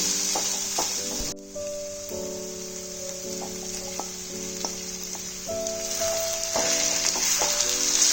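Potatoes go into a pan of cooked cabbage and fried spices for a vegetarian cabbage dish, bringing a close, steady frying sizzle with a few stirring knocks and no talking.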